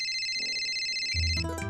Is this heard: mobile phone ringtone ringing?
yes